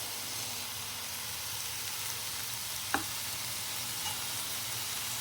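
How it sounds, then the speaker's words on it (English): Arborio rice poured into a hot pan already sizzling with oil and spices, for a chorizo and chicken jambalaya; a steady, even frying hiss fills the clip, broken by one short sharp tap partway through, with no talk. "And now I'm putting in 170 grams of arborio rice"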